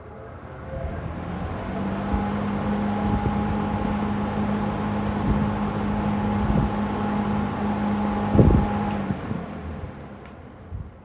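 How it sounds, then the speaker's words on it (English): Lakewood P-25 electric fan running at speed with a steady motor hum and whir, then a click as it is switched off and the blades wind down, heard close and moderately loud. "we will crank it up one more time and end with the spin down"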